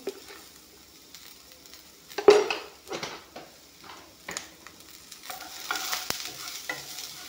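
Potatoes and bitter gourd fry with turmeric in an oiled pan while a spatula stirs, giving soft sizzling and scattered scraping knocks, close and fairly quiet, with no talk.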